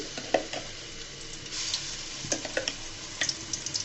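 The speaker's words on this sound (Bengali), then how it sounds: "এখানে দিয়ে দিলাম পরিমাণ মতো আদা রসুন পেস্ট। দিয়ে এটাকে সুন্দর করে আমি ভেজে নিব কাঁচা গন্ধটা যাওয়া পর্যন্ত।" Ginger, garlic and onion paste fries in hot oil in a pan for a duck curry, giving a continuous close sizzle broken by irregular little pops and spoon clicks as it is stirred.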